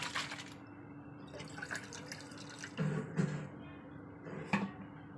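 A small amount of water splashes and trickles as a cooking pot is rinsed before milk is boiled, close and fairly quiet, with a steady background hum and a few louder splashes.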